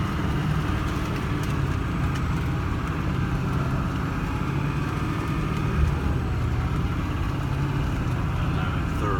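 A Hummer H1 Alpha drives steadily across a proving ground, its engine and road noise a continuous broadband rumble inside the cab, with no distinct gear changes or bursts.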